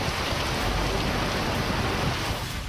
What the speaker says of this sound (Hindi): लगातार बारिश से हर गली, हर सड़क, हर घर पानी में समा गए हैं।